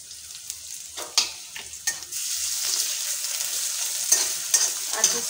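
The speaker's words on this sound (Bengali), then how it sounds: "আর কিছুক্ষণ নাড়াচাড়া করে নেব" Onion, garlic and ginger sizzle steadily in a pan, with a spatula scraping and stirring in several close, irregular strokes.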